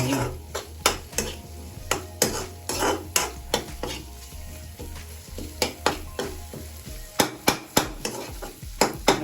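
Shrimp and garlic stir-frying in a pan, with a steady sizzle beneath a string of sharp clinks and scrapes from a utensil stirring against the metal, loud and close, with no talk.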